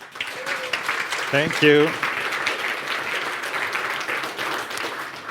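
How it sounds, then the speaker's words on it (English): Steady audience applause at a NixCon 2025 conference talk fills the room throughout, with a speaker briefly thanking the crowd midway over the clapping. "Let's give a round of applause for Sönke and Alex and their talk, nixos-compose."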